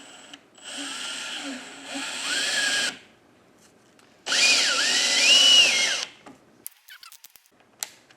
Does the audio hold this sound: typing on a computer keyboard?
no